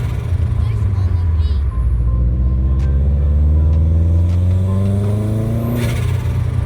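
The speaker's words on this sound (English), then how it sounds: "how you can make your WRX or STI flutter for cheap by making a blow-off or bypass valve block-off plate" A Subaru WRX or STI turbo engine fitted with a blow-off/bypass valve block-off plate revs up loudly and close by, its rising, rumbling note repeating in surges, with no talking.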